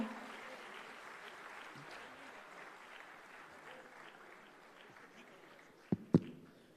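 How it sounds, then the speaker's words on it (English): Faint, even applause from a conference audience at a TiECON Chandigarh 2024 leadership session, sounding distant and washy throughout, with two sharp thumps close by near the end. "Let's have a loud round of applause, please."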